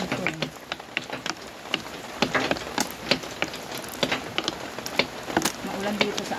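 Rain patters in a village in Quezon, making dense irregular ticks and drips on surfaces nearby with a steady wash beneath, and a voice speaks at times over it.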